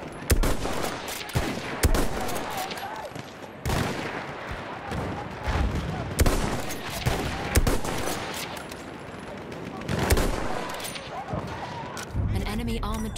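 Machine gun fire in the video game Battlefield 1, repeated loud bursts and single heavy shots spaced through the battle amid explosions and general combat noise, with voices talking over it throughout.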